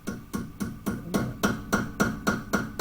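A cotter key is tapped into place on a Studebaker Avanti under restoration, giving about ten evenly spaced, close metallic taps in a steady rhythm, alone with no talk.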